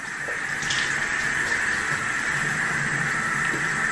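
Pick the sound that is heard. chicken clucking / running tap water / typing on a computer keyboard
running tap water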